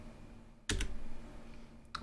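Keys clacking on a Famicom Family Basic keyboard, a short burst of several close, loud presses followed by a lone click near the end, with no voices.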